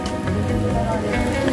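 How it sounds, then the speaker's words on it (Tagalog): Heavy rain pours steadily on a vehicle parked in a downpour, a dense, constant wash close by that carries on through the whole moment. "Lakas ng ulan, grabe."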